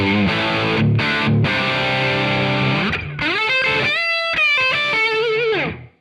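Distorted electric guitar through AmpliTube 5 amp simulator plays sustained chords, then a melodic run of bent notes, with a reverb tail ringing out at the end.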